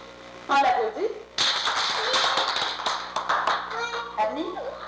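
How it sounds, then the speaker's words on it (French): Children burst into applause in a classroom, a dense, lively clapping that starts suddenly and carries on for several seconds, with children's voices and an adult talking over and around it. "On l'applaudit."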